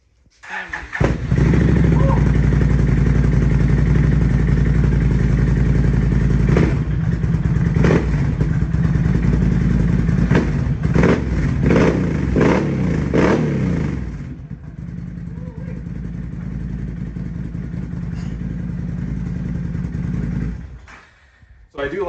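A Can-Am Outlander 800 ATV with an HMF exhaust cranks, fires up close and loud, then revs and idles with rough clatter, the engine dropping to a lower idle before cutting off near the end while people talk.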